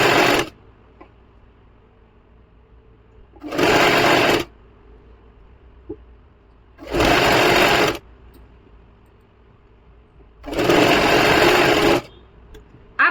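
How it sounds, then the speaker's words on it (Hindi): Sewing machine stitching a kurti sleeve in four separate bursts of fast, even needle chatter, each about a second long, with quiet pauses between them and no voices. "बिल्कुल हल्के हाथ से सिलाई लगाएंगे।"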